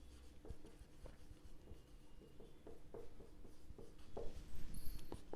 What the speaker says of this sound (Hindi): चलो इधर लिखते हैं